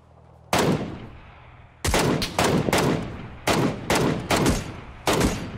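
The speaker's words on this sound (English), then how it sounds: "I gotta stop shooting though" Gunfire in PUBG Hardcore Mode: after a brief lull, a loud opening shot, then a steady string of sharp, close reports in quick bursts, each cracking and decaying into the next.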